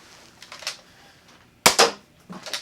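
A Nerf Hammershot blaster fitted with an aftermarket 8-shot cylinder fires darts in a few sharp, close snaps with short gaps between them, one especially loud, with no talking.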